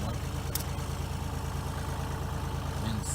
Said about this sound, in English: I don't know if this little tractor will lift it.